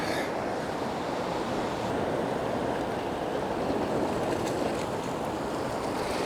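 Ocean waves wash over rocks on a seashore, a continuous loud roar of surf with wind buffeting the microphone throughout.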